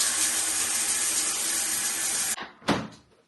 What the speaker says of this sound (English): Alright, shower hour.